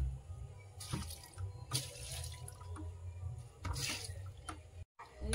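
Garden plants are watered in the evening over sun-heated soil: faint splashes and trickles of water come in a few short bursts against a quiet background.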